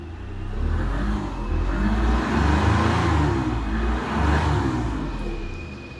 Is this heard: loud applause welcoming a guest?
no